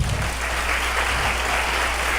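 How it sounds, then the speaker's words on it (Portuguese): Church congregation applauding during a sermon, a dense wash of clapping throughout, loud and unbroken, with no voice on top. "Você pode aplaudir Jesus?"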